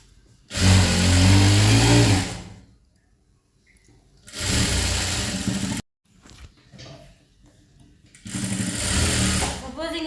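Sewing machine stitching a school uniform coat, running in three loud bursts of a few seconds each with short quiet pauses between them.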